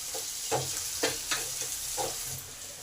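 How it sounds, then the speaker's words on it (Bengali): Tomatoes added to onions already fried reddish-brown in a pan for a Bengali chicken and potato curry, sizzling softly with a few short scraping stirs spaced through the clip. "এবারে টমেটোগুলো দিয়ে দিই। এগুলোকে ভালো করে নরম করে ভেজে নিই।"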